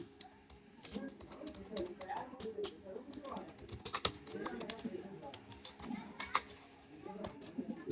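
Quick, uneven clicks of a computer keyboard as C++ code is typed, close and soft, running throughout while someone talks over it.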